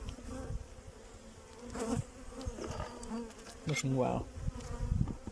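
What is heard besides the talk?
honeybee colony buzzing in an open hive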